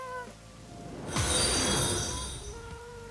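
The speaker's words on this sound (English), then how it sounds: "I'm gonna just send a test alert real quick." A cat meow plays as a livestream test alert, one drawn-out mewing cry standing alone after a brief quiet start, moderately loud with a soft fade.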